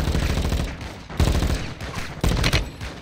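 Heavy gunfire from a Call of Duty: Modern Warfare 2 (2022) campaign mission, dense sustained bursts filling the whole stretch with loud surges of rapid shots and booming impacts.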